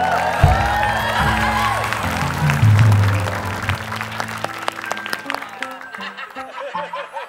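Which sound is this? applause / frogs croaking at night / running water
applause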